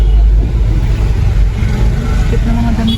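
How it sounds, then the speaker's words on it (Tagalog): Busy street traffic in the Divisoria market area, with a loud continuous rumble of nearby vehicle engines, one revving slightly, and a faint tonal beep near the end. "Traffic dito banda."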